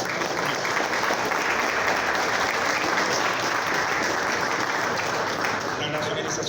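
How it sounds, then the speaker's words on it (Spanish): A large audience at a youth commemoration event gives dense, loud applause to the promoters, a continuous wash of clapping from start to finish. "yo quiero que le den un aplauso a los promotores"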